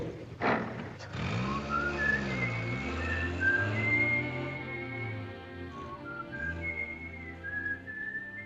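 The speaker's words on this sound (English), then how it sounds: "Is it all right now if I whistle together?" Someone whistles a melodic tune alone, with sustained notes and gliding pitch changes over a low steady background hum.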